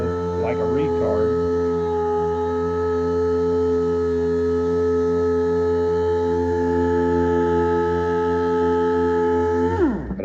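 A power tool with a foam-backed sanding disc cuts paint, running as a steady, loud droning hum with fixed tonal harmonics that holds for about ten seconds before the motor winds down at the end.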